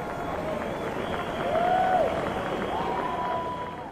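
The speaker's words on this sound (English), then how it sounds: "Let's give all five of them a nice round of applause." Audience applause and cheering for five contestants on a stage show, a steady crowd roar with a couple of faint sustained tones over it.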